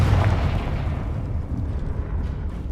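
A Confringo explosive spell in Hogwarts Legacy, heard as a low, rumbling blast that is loudest at the start and then settles into a sustained, fading roar with no voices over it.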